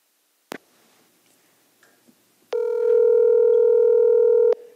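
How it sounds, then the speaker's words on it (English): A telephone call is placed from a meeting's conference system: a click and a few faint button blips, then a steady loud ringback or dial tone held for about two seconds before cutting off. "Dialing now."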